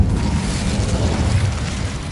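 The Incendio fire spell is cast in Hogwarts Legacy and bursts out as a loud, close whoosh of roaring flame with a booming low-end rumble. It lasts about two seconds, with no talking.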